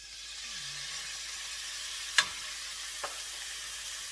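Shaved beef fries in olive oil in a pan, a steady soft sizzle with two sharp clicks or pops partway through and no talking.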